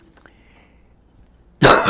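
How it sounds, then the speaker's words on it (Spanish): A loud, harsh cough bursts out near the end after a quiet stretch, close and sudden, during a Spanish-language talk show interview on Cuban economics. "los accesos de tos a veces nos impiden seguir hablando"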